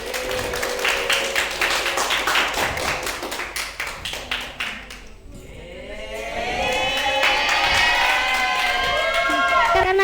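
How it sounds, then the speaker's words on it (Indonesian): A classroom group claps in applause during an Indonesian language lesson, with dense rhythmic hand claps for several seconds, then a brief lull before a louder wave of clapping and cheering with voices mixed in. "Tepuk tangan untuk kelompok kiri"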